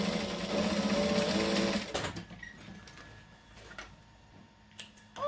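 Sewing machine running fast, basting stitches on a camera bag, a steady mechanical whir that stops after about two seconds, followed by faint ticks and handling sounds.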